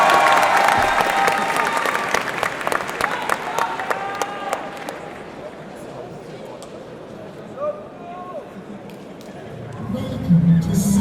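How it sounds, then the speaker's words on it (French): Audience applause and cheering at a cosplay contest during an e-sports event, a dense burst of clapping over crowd noise that fades after a few seconds, with a voice speaking over it. "Applaudissements s'il vous plaît."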